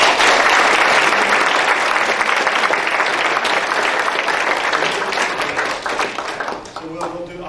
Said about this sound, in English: we can have a round of applause